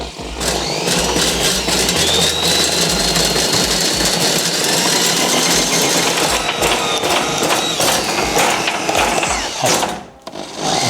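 Drain auger spinning in a clogged sink drain, a loud continuous whirring motor whine with grinding rattle that holds steady for about ten seconds before briefly cutting out and restarting.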